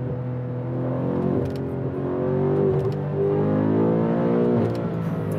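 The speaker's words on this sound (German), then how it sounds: "du gibst wirklich so ein bisschen Gas und dann kommt der sofort und zieht richtig, richtig heftig böse durch" A G-Power-tuned BMW M5 CS with 800 PS and 1050 Nm pulls hard under acceleration, its engine a steady, loud drone that swells and climbs in pitch in smooth waves, with no voices over it.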